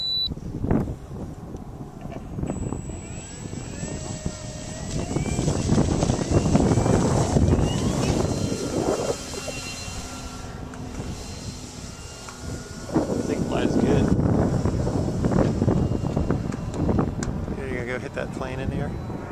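A P-51 Mustang warbler takes off, its piston engine roaring steadily and swelling twice in loudness, with wind buffeting the microphone and people talking over it.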